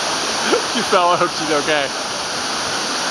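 Waterfall at Kanchanaburi falls in Thailand, a steady broadband rush of falling water heard close and continuous, with a couple of people talking briefly over it.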